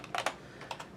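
Keys on a computer keyboard are struck in a quick few taps, with a cluster of clicks followed by a couple more, close and clear with no talking.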